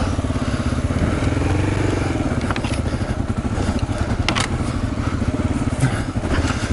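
Dual-sport motorcycle engine, one of a KLR 650, CRF 250L or KLX250, laboring steadily in low gear on a rutted spring trail, loud and close with clattering and scraping from the bike crawling over rough ground.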